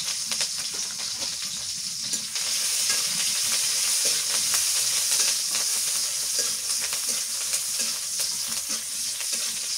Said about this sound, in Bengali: সরষের তেল দিয়ে দিচ্ছি।